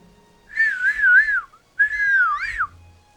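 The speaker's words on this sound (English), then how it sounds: "Think cows like whistling?" Two sustained melodic whistled phrases, each about a second long with a short gap between them, loud and clear with no talk, from a character in The Legend of Zelda: Tears of the Kingdom whistling out in a pasture.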